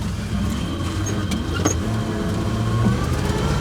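A 1968 Cadillac hearse engine revs hard in a steady, loud drone while its wheels spin and tear up grass, the strained roar continuous and close throughout.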